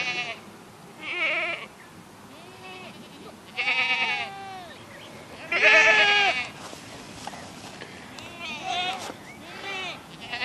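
Farm goats in a pen bleating repeatedly during a feeding taste test, several loud nasal bleats at irregular intervals from close by, with quieter bleats and shuffling between them.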